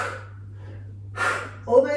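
Forceful breathy exhales from a yoga HIIT cardio workout, a soft one early on then two louder, sharper bursts near the end, close and over a steady low hum, with a voice briefly mixed in.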